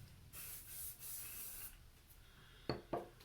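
A few short hissing bursts of a spray bottle misting hair oil close by, followed by two soft taps, with no voices.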